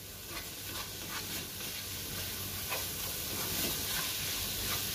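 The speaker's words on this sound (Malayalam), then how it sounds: "ഇനി തക്കാളിയും ചേർത്ത് നന്നായിട്ടൊന്ന് വഴറ്റിയെടുക്കണം." Tomatoes sautéing in a hot pan for bread masala give off a steady, close sizzle and hiss throughout, with occasional soft stirring scrapes and no talking.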